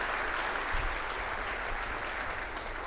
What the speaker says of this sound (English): May we have a big round of applause for all the wonderful speakers that we have had today.